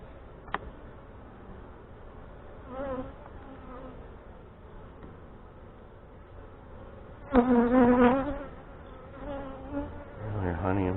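Honey bees droning at an opened hive during a fall inspection in northwest Wisconsin, a continuous close hum with brief louder buzzes as individual bees pass near.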